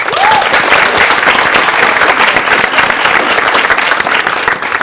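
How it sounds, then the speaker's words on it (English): Loud, steady applause from a large audience, continuous clapping filling the whole stretch without letting up. "Big applause."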